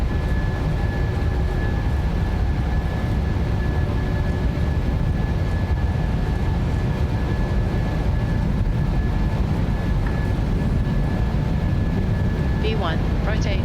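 Simulated Boeing 737 engines, a Ryanair PMDG 737 in MSFS 2024, spooling at takeoff thrust, a loud sustained low roar with a steady whine, while pilots talk over it.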